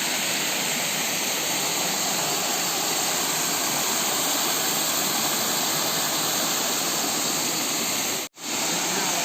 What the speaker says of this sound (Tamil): தண்ணி ஆற்றுல ஃபுல்லாக போயிட்டுருக்கு.